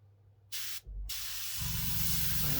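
A cheap KK Moon airbrush gives short bursts of hissing air, then a steady, close spray of air and paint that continues to the end, alone without talk.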